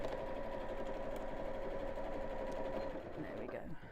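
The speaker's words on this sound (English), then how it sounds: "So let me just sew down the pocket that I forgot to do." A sewing machine stitches down a pocket on a roll-up purse organiser, humming steadily and close up before slowing at the end, with faint talk underneath.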